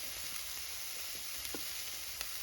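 A quick stir fry cooks in a pan with a tablespoon of light ranch added, producing a steady, fairly faint sizzling hiss broken by a few soft clicks, with no talk.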